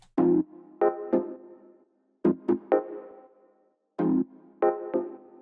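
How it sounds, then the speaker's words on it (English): A plucky sine synth from Serum presets plays the main theme of a minimal house track, short bright notes in clusters of three separated by brief gaps, looping twice. "This plucky sine synth."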